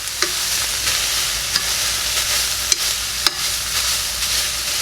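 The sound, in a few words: ground meat and celery cooking, mashed with a masher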